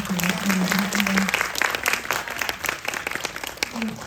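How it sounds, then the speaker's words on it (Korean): An audience at a short-film cinema talk in a small theater applauds for the director, a steady burst of clapping lasting a few seconds, with a speaking voice briefly over the start. "감독님께 박수 한번"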